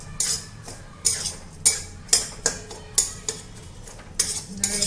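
Peanut chutney is sautéed in oil as a spoon scrapes and stirs the pan in about eight regular, sharp strokes, close and clear, with no talking.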